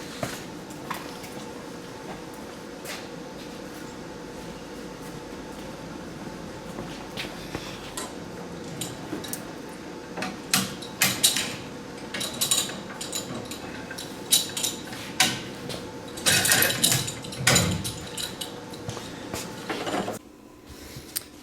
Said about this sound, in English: Probably can like tap that with a hammer too